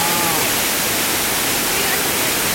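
A waterfall in Naeyeonsan valley, Pohang, gives a steady, dense broadband rush of falling water, even and unbroken throughout with no clear voices.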